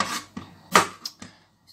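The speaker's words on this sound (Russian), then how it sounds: "вот здесь нарежу огурчик" A kitchen knife slicing a cucumber lengthwise into strips: five sharp, close cuts against a board, irregularly spaced, with quiet gaps between them and no talking.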